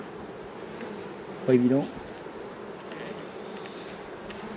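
Honeybees buzz around an open beehive: one close, brief buzz swells and fades over a faint steady hum of the colony, with a short remark spoken in French.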